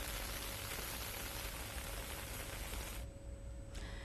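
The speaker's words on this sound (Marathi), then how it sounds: "कल्याण ग्रामीण भागाला काल रात्रीपासूनच मुसळधार पावसानं झोडपून काढलंय" Heavy monsoon rain pours steadily over rural Kalyan near Mumbai, a dense, continuous loud hiss that stays constant throughout, with a brief dip near the end and no voices.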